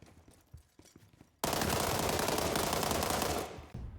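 K2C1 assault rifle fired in the shooter game World War 3: a few faint shots, then a loud sustained burst of rapid automatic fire lasting about two seconds, followed by a short tail and one more shot.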